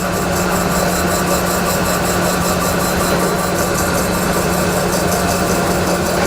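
O.D. cylindrical grinder plunge grinding a part under coolant, a steady dense machine drone with a constant low hum and broadband hiss, continuous and close throughout.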